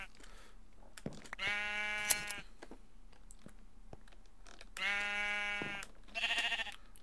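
Minecraft sheep give three separate bleats: a long one early on, a second after a pause, and a shorter wavering one at the end, all heard over a quiet background.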